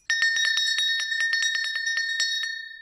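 A bell on a trailhead building is rung rapidly, a quick run of about twenty bright metallic strikes with ringing overtones, close and loud, then decaying at the end.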